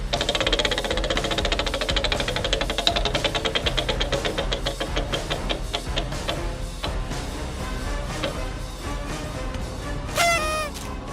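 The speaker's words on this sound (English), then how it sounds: "It's the Final Jeopardy wheel spin to determine Final Jeopardy category this week." A Final Jeopardy category wheel spinning for a Disney Jeopardy trivia game, a rapid ticking clatter that gradually slows, ending in a brief chime near the end.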